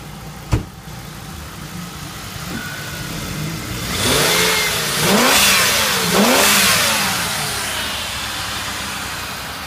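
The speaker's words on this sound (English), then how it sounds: "98 Lincoln Mark. Motor runs good." A 1998 Lincoln Mark engine idles steadily, then revs up in three rising and falling pulls before settling back to idle, close and fairly loud after a sharp click at the start, with no talking.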